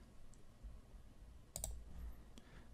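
A few faint computer mouse clicks in ArcMap, a quick double click followed later by a single soft click, over quiet room hiss.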